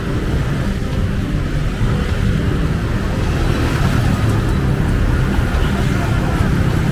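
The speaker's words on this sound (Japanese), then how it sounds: "今度は車が多いです" Dense car traffic rumbles past on a Ho Chi Minh City street, a loud continuous roar of engines close by, with a person talking over it.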